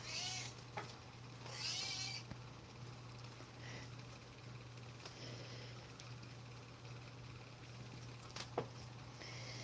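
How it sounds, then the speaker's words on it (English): A cat meows a few times, high and fairly close, over a low steady hum in a quiet room. "she can meow pretty loud"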